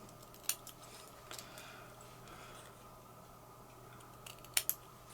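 Scissors snip through watercolour card in a quiet room, a couple of sharp crisp cuts near the start and a quick double snip near the end, fairly close.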